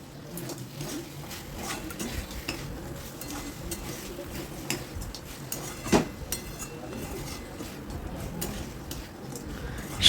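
Fried crabs go into a pan for a Bengali crab curry, making a low, steady frying hiss with light stirring and one clear clatter partway through.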